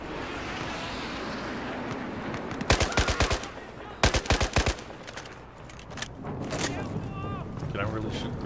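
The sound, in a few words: gunfire in video game Battlefield 4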